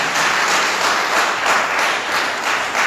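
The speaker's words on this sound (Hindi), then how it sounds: "ताली बजा के" A church congregation claps during a Sunday service sermon. The applause is loud, dense and continuous, with no break for the whole moment.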